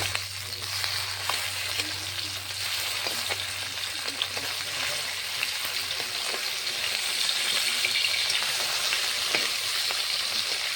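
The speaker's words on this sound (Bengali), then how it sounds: "মাছটা এখন আমি উল্টিয়ে নেব।" Fish frying steadily in a pan, a constant close sizzle with faint scraping and tapping from turning it, no talk.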